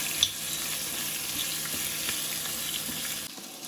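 Onion, green chili and curry leaves sautéing in a pan, giving a dense, even sizzle with faint scattered stirring clicks, steady until it quiets near the end.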